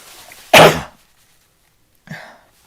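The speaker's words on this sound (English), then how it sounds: "I'm going to sneeze as well, which isn't good." A single sharp sneeze bursts out loudly, followed after a pause by a softer breathy sniff or throat sound.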